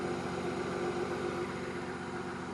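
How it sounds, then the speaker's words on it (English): A belt-driven air pump whirs steadily on a running Volvo 960 engine, a constant, moderately loud mechanical drone with a low idling rumble underneath, close by and with no one talking. "the noise you're hearing right now is this air pump"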